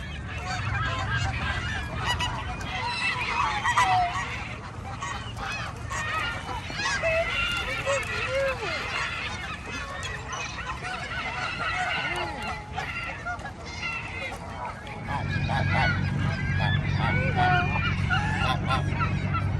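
Geese honk repeatedly, scattered near and far, at the waterfowl habitat in Columbia Park, with a low outdoor rumble in the background and a few faint voices.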